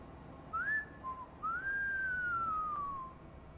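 Whistling in the video game Cyberpunk 2077: a short rising whistle note, a brief low blip, then a long, steady tone that slowly falls in pitch, clear and alone with no talking.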